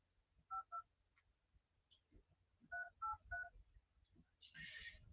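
Telephone keypad tones sound while a call is placed: two quick beeps, then a run of three more after a pause, followed by a brief burst of noise, with faint murmuring in the background.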